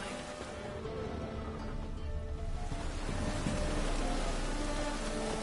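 A continuous downpour patters on the ground in The Witcher 3: Wild Hunt, a broad, unbroken wash of rain that swells gradually louder over several seconds, with no speech.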